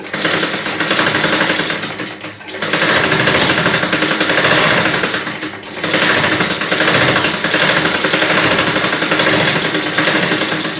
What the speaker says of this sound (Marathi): मी आता याच्यावरच पुन्हा डबल एक शिलाई मारून घेतो